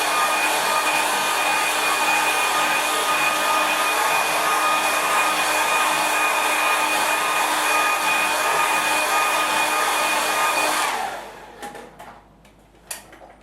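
A hair dryer blows over a wet watercolour landscape painting, a loud, steady, close whirring roar that runs unbroken for about eleven seconds before switching off, leaving a few faint clicks and rustles.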